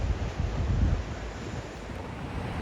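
Sea waves washing ashore with wind buffeting the microphone at Clacton-on-Sea, a continuous loud rushing roar with a surge near the start, no talk.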